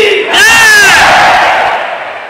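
A large crowd at a religious gathering in East Delhi loudly chants 'Siyapati Ramchandra' in unison, a sustained roaring swell of many voices that fades slightly toward the end.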